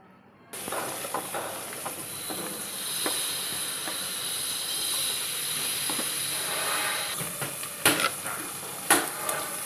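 Drumstick pieces hit a hot pan for a Kerala-style fish curry and set off a sudden loud, steady hissing sizzle that holds for several seconds, with a few stirring knocks and scrapes near the end, close by, with no speech.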